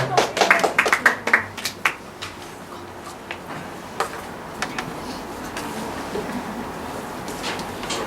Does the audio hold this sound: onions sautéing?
no